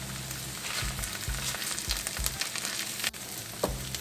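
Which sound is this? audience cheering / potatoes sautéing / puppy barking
potatoes sautéing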